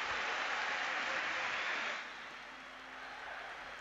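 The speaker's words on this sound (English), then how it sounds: "you can hear the applause ripple and hit a crescendo there as Celtic break out of the huddle" A football stadium crowd applauds as Celtic break from the pre-match huddle against Qarabag, a broad distant wash of clapping that swells and then settles slightly lower.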